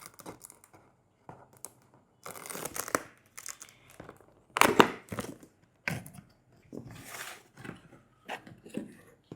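Packaging for a Sony 50mm f1.4 camera lens being unboxed: intermittent tearing, crinkling and rustling bursts of cardboard and wrapping, close and moderately loud, with quiet gaps between handling sounds.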